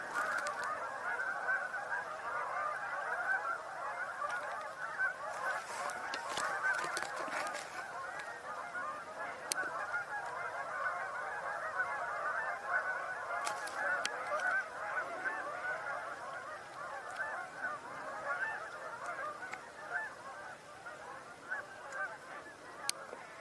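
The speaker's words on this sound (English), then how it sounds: "Sounds like more geese coming in given the vocalizations we're hearing." A flock of geese honks repeatedly as the birds fly in, a dense, continuous chorus of calls at moderate distance over steady outdoor ambience, with no talking.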